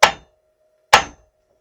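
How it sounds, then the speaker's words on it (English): Two sharp metallic hammer taps on the flywheel of a Stihl 038AV chainsaw, about a second apart, each ringing briefly with a faint sustained tone between them, close and alone. "you want to tap it with a hammer"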